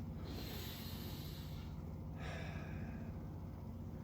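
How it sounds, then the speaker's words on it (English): Steady nasal breathing from a person holding a low squat during a home warm-up, with sharp snort-like inhales and exhales through the nose over a constant low background hum. "try to keep breathing through the nose as much as you can."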